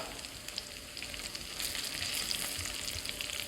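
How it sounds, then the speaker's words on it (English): Steady crackling sizzle of meatballs frying in a hot pan, continuous and close, with no talking. "our meatballs are frying"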